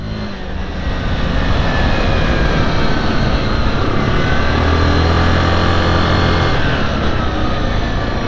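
Yamaha Grizzly 700 ATV engine running steadily while being ridden, a loud continuous drone with no pauses or speech.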